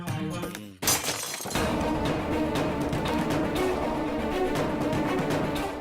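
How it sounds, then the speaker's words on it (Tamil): Glass shatters in a scene from a Tamil TV serial: a sudden loud crash breaks in near the start, then gives way to a dense, sustained wash of noise that runs to the end. "பாஸ் கண்ணாடி உடைஞ்ச மாதிரி சத்தம் கேக்குது பாஸ்."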